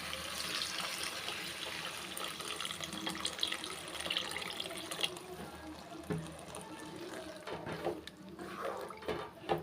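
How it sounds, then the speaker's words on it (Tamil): Tamarind water pouring and splashing steadily into a pot for a dried-fish curry for several seconds, a continuous wet rush with faint clinks, no talking. "புளித்தண்ணி சேர்த்துக்கிறேன்"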